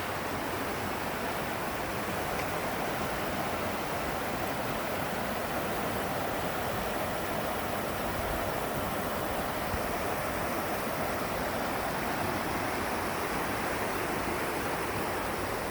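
A river flows beside a trail in Linville Gorge, making a constant, dense rushing roar that stays loud and unbroken from start to finish with no voices.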